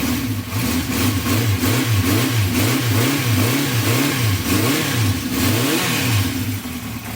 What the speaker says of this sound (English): See if it does the same thing, revs up.